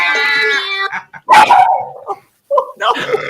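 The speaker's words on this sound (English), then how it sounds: "Is that your dog?" A dog barks loudly and close at a charity fundraiser stream, a few sharp yips and barks with a whimpering edge, broken by short pauses.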